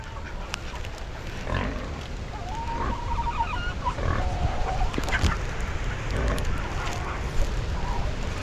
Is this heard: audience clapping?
no